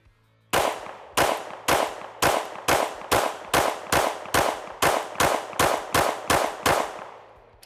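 Fourteen sharp gunshots from a ported CZ P-10C pistol ring out in a steady, evenly spaced string, each loud crack trailing a brief echo, with no talking.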